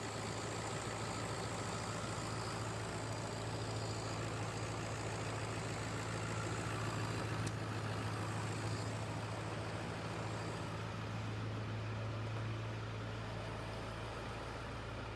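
Ford 7.3 Powerstroke diesel idling after a turbo and intake build, a steady, even low rumble with a constant drone and no pauses or revs throughout.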